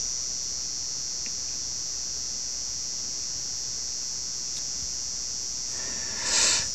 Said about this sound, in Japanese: 鍋の中に入れたとっくりから聞こえてくる謎の音です